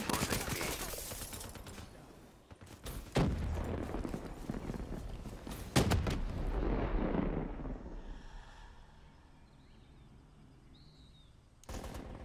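Artillery in Call of Duty Black Ops 3 pounds down in loud, rapid bursts of explosive blasts and rattling fire, several heavy strikes over a few seconds before dying away to quiet, then one more sharp blast at the end.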